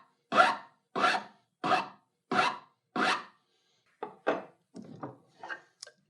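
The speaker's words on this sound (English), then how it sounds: "it takes away the file marks that I left with that double cut file and gives me a beautiful finished surface" A file cutting a chamfer into the end grain of a wooden Craftsman table leg, with five evenly spaced rasping strokes followed by a few shorter, lighter strokes, close and clear, with no talking.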